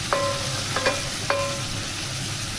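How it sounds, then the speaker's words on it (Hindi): Garlic-ginger paste frying in hot oil for chicken korma, a steady close sizzle with a few sharp scraping stirs of a spoon against the pan, no talking. "अब इसके अंदर हम सबसे पहले लहसुन अदरक का पेस्ट डालेंगे"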